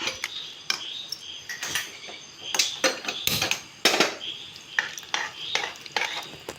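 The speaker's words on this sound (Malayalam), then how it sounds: "കായം, ഇത്രയും കൂടെ ഇട്ട് നന്നായിട്ട് ഇളക്കി കൊടുക്കാം" Asafoetida being stirred into sambar in a metal pot, a busy run of sharp scraping clinks from a spoon against the pot, irregular and fairly close, with a soft sizzle beneath.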